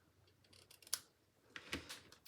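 Scissors snip through card paper while a wedding card is being made, giving two or three quiet, crisp cuts close by.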